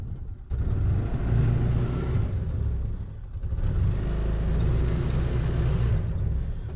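A Polaris Ranger UTV engine rumbles and revs as it accelerates with wheels spinning, a loud continuous drone that briefly dips and then surges again.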